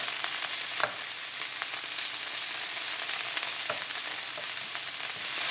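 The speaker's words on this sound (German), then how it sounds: "jetzt haben wir das Fleisch von allen Seiten angebraten" Beef for a tajine sears in a hot pan, giving a steady, dense, close sizzle with occasional sharper crackles and pops.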